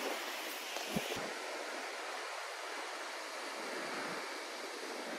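Ocean surf at Praia Vermelha do Norte beach in Ubatuba forms a steady, soft wash of breaking waves heard alone, with a brief tap early on.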